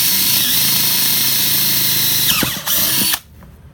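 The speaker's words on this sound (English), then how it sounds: "Make sure you're perfectly perpendicular with the pipe and drill your hole." A power drill bores a hole through schedule 80 pool pipe with a loud, steady whir. The pitch bends as the bit breaks through near the end, then the drill cuts off, leaving only faint room noise.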